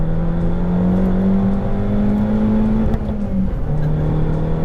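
The modified Abarth 500 'Fat Five' by Romeo Ferraris idles and revs from inside the cabin, a loud, steady engine drone that climbs in pitch and then drops back to a lower hum, with no voices.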